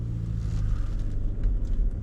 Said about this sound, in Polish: jak tutaj mięciutko chodzi ten dieselek